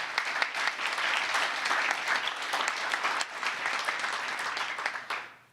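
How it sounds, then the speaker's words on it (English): Audience applause at a pro-life celebration event, a dense, continuous wash of many hands clapping at steady volume for over five seconds before fading out at the end. "Give yourselves a round of applause"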